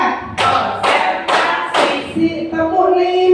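A group plays a rhythmic tepuk clapping game as an ice-breaker at a teacher workshop: four sharp clap bursts in quick succession, followed by a sustained voice.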